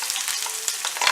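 Onion frying in hot coconut oil for a Kerala chicken roast, a steady close sizzle with a few soft spoon knocks against the pan, no voices.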